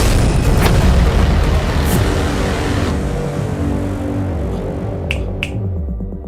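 A loud, close boom of a firecracker blast in a Hindi-dubbed action film opens, followed by a long rumbling decay that fades out, with a couple of sharp pops near the end.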